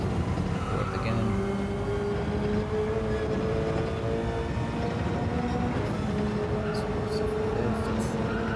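A race car in Gran Turismo 7 drives flat out, its engine whining continuously as it shifts through the gears with rising and falling pitch, tire squeal and other cars mixed in, steady and loud throughout.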